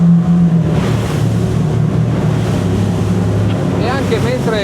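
A Mar.Co E-Motion 44 motorboat runs fast over rough sea, its engine drone steady and loud beneath heavy wind buffeting the microphone and rushing water, with brief whistling tones near the end.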